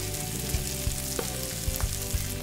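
Pita bread fries in a hot pan with a steady, close sizzle and scattered crackling pops throughout, with no voices.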